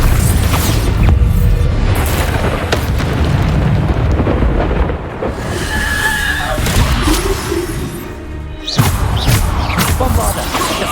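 Bombarda spell explosions in Hogwarts Legacy combat, loud heavy booms and crashing blasts with rumbling debris, a brief lull and then another sharp blast, with game chatter mixed in.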